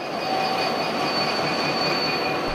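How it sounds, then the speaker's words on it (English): Freight train hauling armored tanks to Fort Benning, Georgia, rolling steadily past with a loud continuous rumble and high sustained wheel squeal, no voices. "hauled by freight train to Fort Benning, Georgia"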